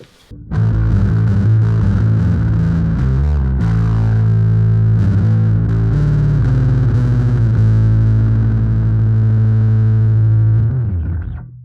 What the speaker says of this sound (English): you can get everything from a subtle bit of breakup to full-on distortion